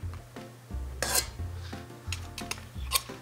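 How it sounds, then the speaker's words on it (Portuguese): Two spoons shaping French meringue into a quenelle, giving soft scrapes and rubbing taps of metal on metal and bowl, close and quiet, coming in short irregular strokes. "aqui com a ajuda de 2 colheres eu vou fazer a minha quenelle de merengue"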